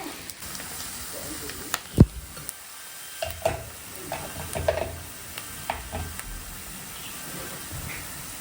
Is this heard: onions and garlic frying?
yes